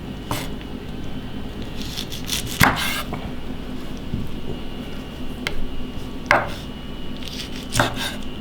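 A knife chops taro into cubes on a board, sharp separate knocks at an uneven pace with a few scraping strokes between them, close and clear with no talk.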